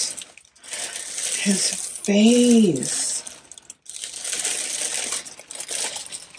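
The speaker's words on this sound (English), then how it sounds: "I'm gonna take the plastic off." Plastic wrapping on a Harry Potter Gringotts Bank Head Goblin figurine from Ashton Drake is peeled off with close, bright crinkling and rustling in two stretches, broken by a short spoken exclamation.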